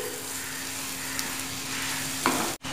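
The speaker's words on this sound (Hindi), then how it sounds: "मीडियम फ्लेम पे मिर्ची को सॉफ्ट होने तक पकाएंगे" Green chillies cooking in oil in a pan over a medium flame, giving a continuous even sizzle close by with a brief stirring clatter near the end.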